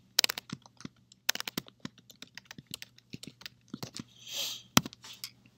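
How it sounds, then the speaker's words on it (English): Typing on a computer keyboard while entering an email address into a git configuration command, heard as a close run of irregular, crisp key clicks with short pauses and a brief soft rustle near the end, no talking. "you'll type your email"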